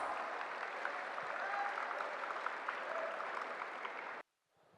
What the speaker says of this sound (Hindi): So give yourself a big proud round of applause.